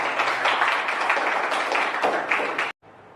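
Classroom applause from a group of students, steady dense clapping that stops abruptly near the end, leaving near silence.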